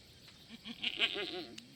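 Sheep bleating on a farm in the Albion Online game, several short wavering bleats in a row at moderate volume, with no talking.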